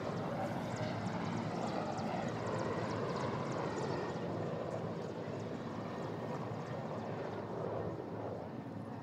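Air force aircraft pass over the Rajiv Gandhi Super Speciality Hospital, a steady broad engine roar filling the sky at moderate distance throughout.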